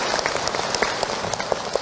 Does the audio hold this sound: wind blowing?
no